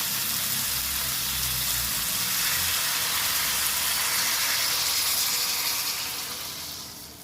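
Water goes into a hot cooking pot of curry on the stove, making a continuous broadband hiss and sizzle that holds steady and then tapers off near the end, with no voices.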